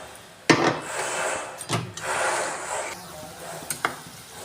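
Masala spices for a spicy fish curry with tomato and poppy seed sizzle in a pan while being stirred and scraped, with a few sharp utensil knocks standing out over a steady close-up frying hiss.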